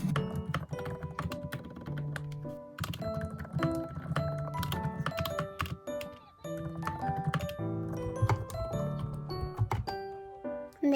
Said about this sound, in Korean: 저는 약간 키보드가 약간 서걱서걱한 소리 나는 키보드가 너무 좋더라고요